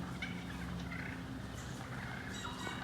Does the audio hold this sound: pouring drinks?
no